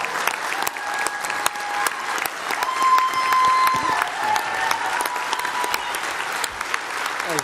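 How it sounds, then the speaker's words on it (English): A large crowd at a tax reform speech by President Trump breaks into sustained applause, a steady dense roar of clapping lasting several seconds with occasional cheers. "Give him a giant round of applause."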